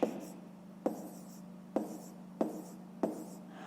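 A pen on paper writes out figures, giving five sharp taps or strokes at roughly even intervals against a quiet background, close and soft with no talk.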